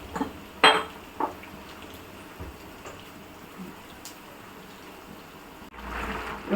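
Gentle stirring of half-cooked rose chicken biryani rice in a pot, with a few soft metallic clinks of a spoon against the pot over a quiet, low background, ending in a brief rustling swell.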